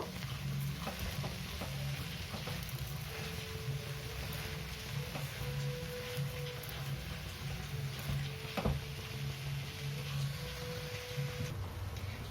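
Sugar being stirred into carrot halwa cooking in a pan, a continuous soft sizzle with scraping and stirring strokes, fairly faint and steady, with no talking.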